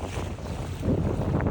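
Wind and lapping waves around a fishing boat coming back into Vizhinjam harbour from a fishing trip, a steady broadband rush of sea and microphone wind with no clear engine note and no voices.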